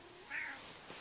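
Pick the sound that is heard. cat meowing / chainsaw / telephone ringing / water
cat meowing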